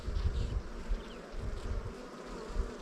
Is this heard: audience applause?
no